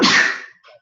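A single loud, close sneeze bursts out sharply and trails off within a second, followed by a brief faint tail.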